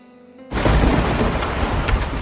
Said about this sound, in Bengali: থেকে থেকে মেঘের গর্জন আর বিদ্যুতের চমকানি চলছে